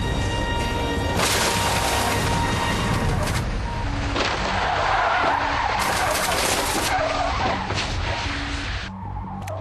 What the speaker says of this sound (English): It's the most frightening and surprising sideswipe you've ever seen.